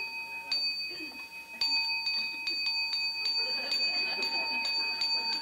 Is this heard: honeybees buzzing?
no